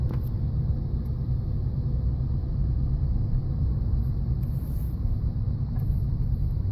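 A Nissan or Infiniti car drives at about 30 miles an hour, giving a steady low rumble of engine and road noise heard from inside the cabin with no break.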